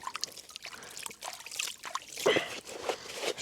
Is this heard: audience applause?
no